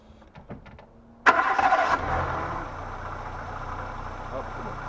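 A Renault Twingo engine cranks on the key and catches with a sharp burst, then settles into a steady idle; a few soft knocks come just before the start.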